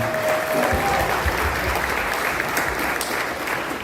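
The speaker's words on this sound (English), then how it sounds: "Give them a round of applause." An audience gives a loud, steady round of applause at a live event with comedian Marlon Wayans in Ohio, dense clapping filling the whole stretch while a voice faintly cuts through.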